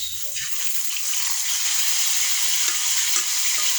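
Saba bananas and milkfish frying in a pan give a steady, close sizzle with bubbling oil and a few soft clinks of stirring, with no talking.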